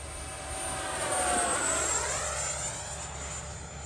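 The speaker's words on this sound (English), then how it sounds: "High speed pass for you guys." An FMS Rafale 80mm electric ducted-fan RC jet makes a high-speed pass, its whine rising and then falling with a clear Doppler sweep as it roars by close and fades away.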